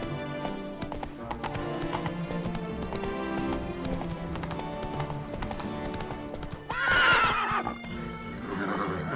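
A horse gallops in The Witcher 3: Wild Hunt, Blood and Wine, its hooves clip-clopping steadily and close under game music, with a loud whinny breaking in near the end.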